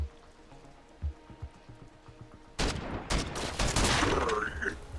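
Gunfire in a tactical RPG roguelite, first a few quiet scattered thumps, then a sudden loud burst of rapid shots that keeps rattling in a dense volley to the end.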